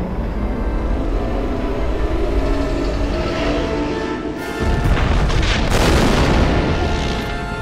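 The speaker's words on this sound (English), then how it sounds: "Cool guys don't look at explosions." Booming explosions from the Star Wars: The Force Unleashed action game, with dense rumbling blasts throughout and a fresh loud burst about halfway through.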